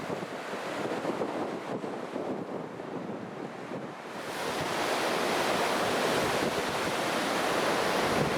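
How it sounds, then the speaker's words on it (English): Wind gusting hard across the microphone in Nicola country by the Thompson River, a rushing roar that grows stronger and fuller halfway through and stays loud. "It's getting a bit windy."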